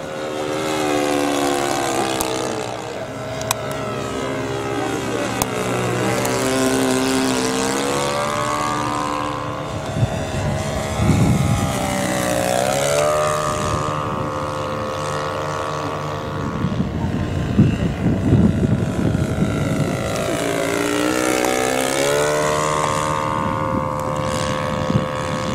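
P-51D Mustang model aircraft flying at a club field, its engine droning steadily with rising and falling pitch as it passes and circles, fairly close, with wind noise and no clear talking.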